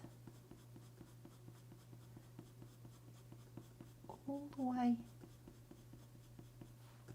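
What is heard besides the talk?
coloured pencil colouring on paper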